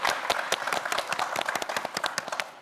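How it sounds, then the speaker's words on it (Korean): A studio audience at a televised science quiz show claps for a student contestant, a lively patter of individual hands at fairly close range with no voices. "김수현 학생에게도 다시 한번 큰 박수 부탁드립니다"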